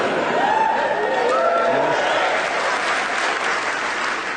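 A lively audience at a Suffolk venue near Aldeburgh claps steadily, with scattered whoops and crowd murmur mixed into a dense, continuous wash of applause throughout.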